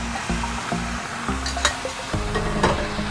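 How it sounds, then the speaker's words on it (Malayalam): Cooked beef with its gravy is stirred into a curry in a pan, close scraping strokes of a spoon repeating over a low sizzle, with a few sharp clinks against the pan. "നന്നായിട്ടൊന്ന് ഇളക്കി യോജിപ്പിക്കാം"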